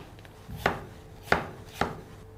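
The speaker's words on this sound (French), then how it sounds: "Puis vous recoupez ce tronçon en lamelles que vous recouperez ensuite en bâtonnets" A knife cuts a vegetable into strips and sticks on a board, giving three sharp, separate chops about two-thirds of a second apart, close and clear.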